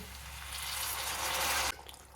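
Hot water pours steadily in a broad, hissing stream for under two seconds, growing slightly louder, then cuts off abruptly leaving a quieter room.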